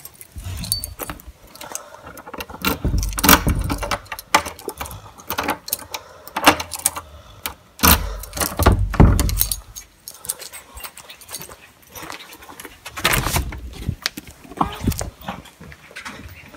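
Keys jangle in bursts while someone rummages for them, the metallic clinks coming close and fairly loud, with handling rustles between the shakes.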